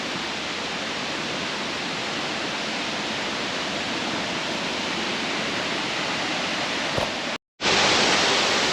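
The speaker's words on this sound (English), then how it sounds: "I hear the waterfall." Brandywine Falls in Cuyahoga Valley National Park, Ohio, gives a steady, broad rushing roar of falling water that holds constant, cutting out briefly near the end before resuming loudly.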